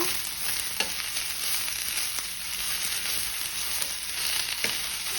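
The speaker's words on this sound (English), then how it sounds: "So you're going to toss those around in your pan, making sure they're each being coated in the oil" Vegetables for fajitas sizzle steadily in hot oil in a pan, with occasional light clicks and scrapes as they are tossed and stirred, close and uninterrupted.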